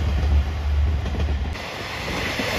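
A JR Shikoku 1200 series local diesel railcar rumbles steadily past at Yamase Station in Tokushima, a loud, continuous low engine and rail drone with no voices.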